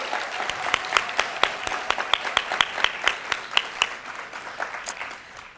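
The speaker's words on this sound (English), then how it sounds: "Can we give them a round of applause for that?" Audience applause at a university education pinning ceremony, a steady patter of many hands clapping with distinct individual claps standing out, moderately loud and sustained throughout.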